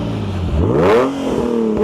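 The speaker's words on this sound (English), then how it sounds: "Let's get a few revs, Dave." A Nissan 350Z fitted with a Borla exhaust revs once from idle, its engine note rising sharply to a loud peak and falling back to a steady burbling idle, heard close up.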